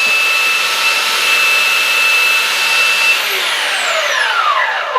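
A 40 or 50 grit sander belt runs loud and steady as a rubber belt cleaner is pressed against it, a continuous hissing, whining rasp with no voices, the pitch sliding down near the end as the machine winds down.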